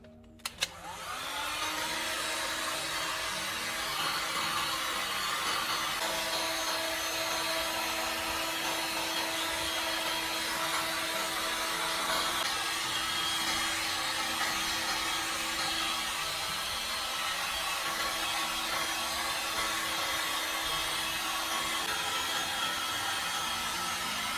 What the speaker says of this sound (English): Use a heat gun or a small hot air tool on low setting to speed up drying.